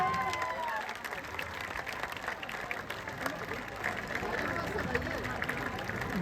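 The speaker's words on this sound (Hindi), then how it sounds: "मैं एक बार चाहूंगा कि सब लोग ताली बजाकर स्वागत कीजिए" Audience at a Jan Suraaj party event applauding to welcome party president Manoj Bharti, a steady wash of many hands clapping with scattered cheers, fairly distant and continuous.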